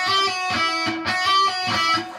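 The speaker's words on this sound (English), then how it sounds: "Now we're going to do a half tone bend." An electric guitar plays a rhythmic run of plucked notes, the pitch bending up a half step on the second string, clear and close with no talking.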